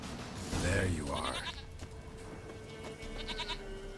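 A goat in The Witcher 3 video game gives a loud, wavering bleat up close, followed by fainter calls over game ambience and background music.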